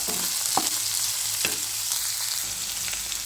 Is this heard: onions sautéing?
yes